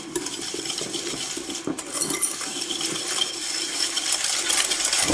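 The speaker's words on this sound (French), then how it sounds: "Je fouette pour blanchir ce mélange." A whisk beating egg yolks and sugar in a bowl for a lemon meringue tart, a fast, steady metallic clatter and scraping close up, with no talking.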